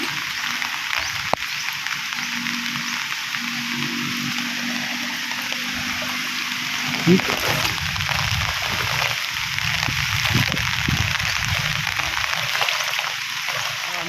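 Strong water flow surging across a flooded vegetable garden on a farm, a steady broad rushing wash with splashing bursts, close and continuous throughout, with no speech.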